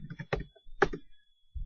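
Several quick keystrokes tap on a computer keyboard as a word goes into a search box, isolated clicks in short clusters, close and quiet, with brief silences between.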